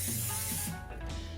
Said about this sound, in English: I'm going to use some non-stick spray on my waffle iron.